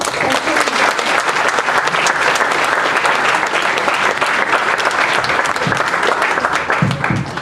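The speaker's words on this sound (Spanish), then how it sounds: "para que pido un fuerte aplauso" Strong, sustained applause from a conference audience welcoming a guest speaker, dense and loud throughout with a crowd murmur beneath.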